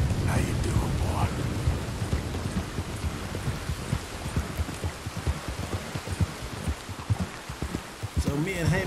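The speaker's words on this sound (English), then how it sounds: "I hope the rain clears up" Rain pours steadily in the video game Red Dead Redemption 2 while thunder rumbles low and continuous throughout, with a sharper burst near the end.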